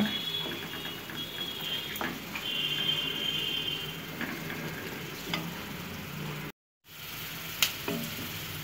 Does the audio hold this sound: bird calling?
no